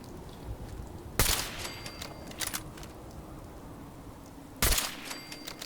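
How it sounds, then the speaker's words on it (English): Two sharp, loud sniper rifle shots in Fallout 4 ring out a few seconds apart, each a sudden crack with a brief echoing tail, over quiet game ambience and a few faint clicks. "I'm going to kill them with the sniper rifle"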